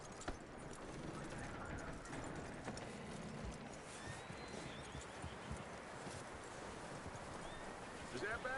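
Horse hooves clip-clop steadily in the Red Dead Redemption 2 video game, a soft continuous trotting rhythm under a dense background of ambient noise, at a moderate distance.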